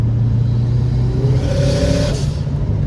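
A tuned Subaru WRX bugeye engine revs under throttle, a steady loud mid-pitched drone that climbs in pitch midway and then eases back, close up with no talking.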